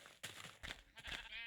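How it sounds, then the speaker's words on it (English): Several sheep bleating in Minecraft, three or four quavering calls in quick succession, fairly close and clear with no talking over them. "there is a buckload of sheep here for some reason"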